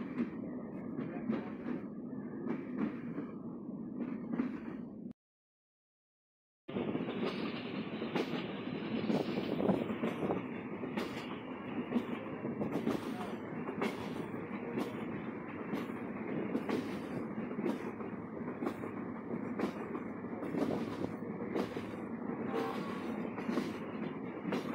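Benapole Express passenger train rolling on rails in Bangladesh, heard from on board as a steady loud rumble with rhythmic clatter, briefly cut to silence before resuming.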